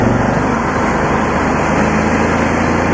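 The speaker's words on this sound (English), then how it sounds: "I give it a little choke that normally makes it run better." Cushman engine running steadily on a little choke, a loud continuous close drone with no change in pace and no talking.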